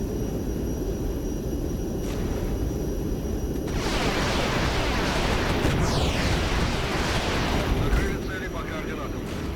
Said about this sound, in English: Let's hit this with a rocket strike.